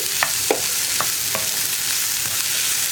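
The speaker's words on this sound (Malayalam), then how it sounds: "ഒരു മീഡിയം ഫ്ലെയിമിലാണെന്നുണ്ടെങ്കിൽ 4 മിനിറ്റോളം ഇളക്കി കൊടുക്കുക" Tomato and onion masala for green peas curry stirred in a pan over medium flame, with a soft continuous sizzle and a few sharp spatula taps and scrapes at irregular intervals. No one speaks.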